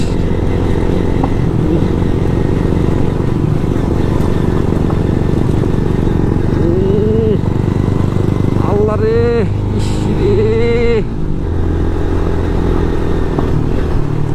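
A motorcycle engine rumbles steadily while riding on a broken road to Sajek, with a few rising revs and some clattering bumps; a voice talks briefly over it.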